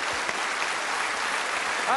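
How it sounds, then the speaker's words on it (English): A crowd claps steadily, a dense wash of applause with no breaks, fairly loud and close throughout. "let's give a nice round of applause"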